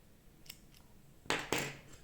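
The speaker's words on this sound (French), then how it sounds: "on va prendre notre petit coup de ciseau" Scissors snip crochet yarn while a Christmas decoration is being made, with two faint clicks of the blades opening followed by two close, crisp cuts.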